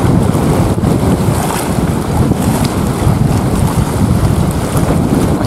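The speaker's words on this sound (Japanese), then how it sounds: "ただ今日風がすごい強い" Strong wind roars across an open reservoir during a rowing-boat trip toward a small island shrine, buffeting the microphone in a continuous loud rush with lapping water beneath and no speech.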